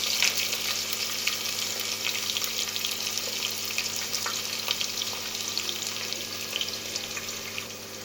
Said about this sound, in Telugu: ఇప్పుడైతే ఎర్రగడ్డ వేస్తున్నాను చూడండి